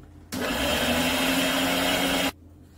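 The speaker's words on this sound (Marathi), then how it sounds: "थोडंसं ह्याला आता खाली वर केलं की मस्त आपले बारीक वाटले जातात धने." Kitchen mixer grinder whirring as it grinds roasted coriander seeds for spice masala, a loud steady two-second burst that starts and stops abruptly.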